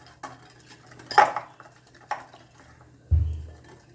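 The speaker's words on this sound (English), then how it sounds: "we'll whisk it or you can say beat it, okay, or mix it." Oil and masala powder being whisked in a bowl for butter chicken, with several clinking knocks of a utensil against the bowl and a heavier thud near the end, close and fairly quiet.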